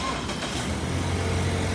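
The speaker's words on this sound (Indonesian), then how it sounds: "Ini suara mesinnya normal, standar normal, halus." A 2016 Mazda Biante with a Skyactiv engine idles nearby, giving a steady low, smooth hum with no misses or surges and no talk over it.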